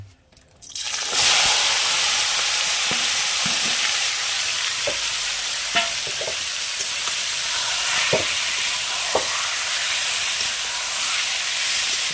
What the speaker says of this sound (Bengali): এই যে মাংস যেগুলোকে ম্যারিনেট করে রেখেছিলাম সেগুলো গরম তেলের উপরে ছেড়ে দেবো